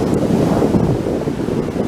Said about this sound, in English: We've got these lovely waves crashing on the beach.